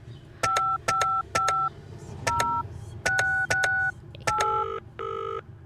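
Touch-tone telephone keypad dialing a phone number, with a run of about ten clear DTMF beeps in short bursts and brief gaps, loud and close, with no talking.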